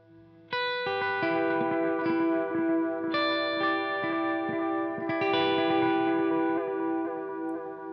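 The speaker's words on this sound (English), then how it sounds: "You can hear that sort of like a warbly effect at the end there" Guitar notes ring out through a Wampler Metaverse multi-delay pedal, repeats trailing off with a wobbly, pitch-warbling modulation; sustained, close, and no talking.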